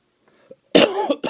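A single sharp, close cough with a throaty rasp, followed immediately by a shorter second cough, after a brief quiet breath.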